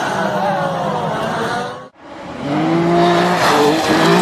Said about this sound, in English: One driver up and huge wreck in Pro Mazda coming.